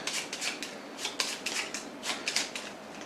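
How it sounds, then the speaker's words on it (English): A deck of playing cards is shuffled during a tabletop game turn, giving a run of crisp riffling bursts and flicks, close and fairly loud, with no talking. "Shuffle them up."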